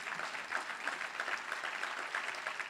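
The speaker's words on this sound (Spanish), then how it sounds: "Dale el aplauso al Señor." A church congregation applauds at a sermon, producing a dense, steady clapping that is fairly faint and distant, with no voices standing out.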